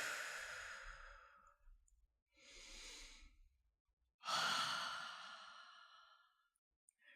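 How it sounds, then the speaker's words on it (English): Slow deep breathing in a calm guided exercise: a long inhale through the nose, a quieter breath, then a louder exhaling sigh through the mouth, close and alone with no talk. "Take a deep breath in through your nose and out through your mouth."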